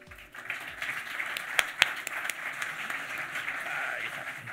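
Steady applause from a conference audience welcoming panel speakers fills the room, a broad even wash of clapping with a couple of sharper claps standing out, moderately distant.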